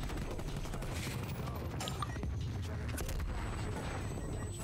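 Distant, muffled gunfire in the Call of Duty Cold War video game, with scattered cracks and a couple of sharper shots, including a long-range rifle shot, under faint voices and constant game ambience.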